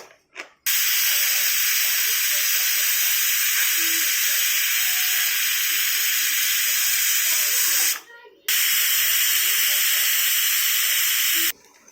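A pressure cooker on a stove, cooking bottle gourd with lentil dumplings, vents steam in two long, loud, harsh hissing bursts separated by a brief pause.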